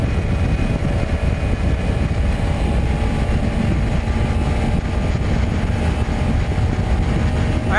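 A Kawasaki Ninja 300 motorcycle cruises on the highway in sixth gear, a loud, steady engine drone mixed with rushing wind noise that holds constant throughout, with no talking.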